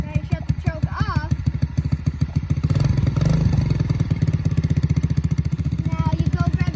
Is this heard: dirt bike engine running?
yes